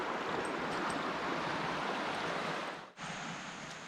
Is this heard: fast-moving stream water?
yes